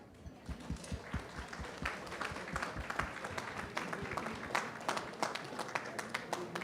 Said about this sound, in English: Please give yourselves a wonderful applause.